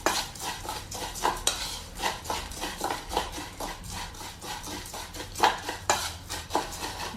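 Wai Wai instant noodle snack being stirred and tossed with tender green leaves (yongchak) in a bowl, giving repeated close clinks and scraping rattles in an uneven rhythm, with no talking.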